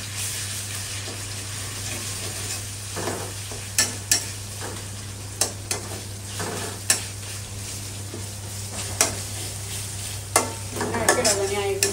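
A utensil scrapes and stirs garam masala and spices through a sizzling pan, with sharp repeated clacks against the metal over a constant frying hiss and low hum.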